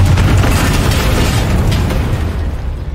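Confringo spell blast in the Hogwarts Legacy video game, a loud booming explosion with a rumbling tail that fades slightly toward the end, no voices.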